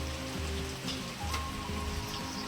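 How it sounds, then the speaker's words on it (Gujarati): Steady monsoon rain falls continuously on a surface outside a village home in the evening, a soft even hiss of drops with faint tonal background sounds underneath and no one speaking. "7 વાગ્યાનો વરસાદ ચાલુ છે"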